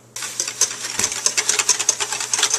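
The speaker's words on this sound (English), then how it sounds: "Alright, so now I'm whisking. It's going to dissolve the salt." Whisking salt into eggs for hollandaise sauce produces a rapid, close, rhythmic clicking of a whisk against a bowl, steady and fairly loud, with no talk.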